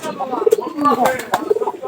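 Pigeons coo in low, throaty bursts, several soft rolling calls repeating over a faint background murmur.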